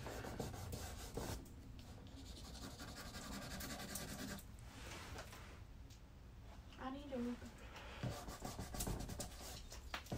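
A pencil shades across paper in a continuous soft, scratchy rubbing, close and quiet, while a voice talks intermittently over it.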